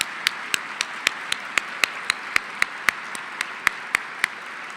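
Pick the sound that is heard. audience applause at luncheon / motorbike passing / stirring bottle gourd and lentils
audience applause at luncheon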